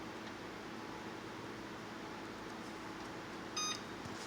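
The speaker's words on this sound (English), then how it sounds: "I'm just gonna set my timer to 15-20 minutes." Beeps from an oven timer being set, a brief, bright burst of a few tones rising out of a steady background hum of fan or air noise near the end.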